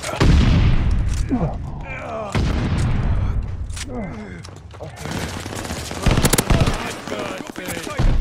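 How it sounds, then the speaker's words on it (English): A stun grenade booms amid rapid automatic gunfire and explosions in a Call of Duty: Vanguard multiplayer match, loud and dense, with game voice lines speaking over the chaotic bursts. "Incoming stun grenade."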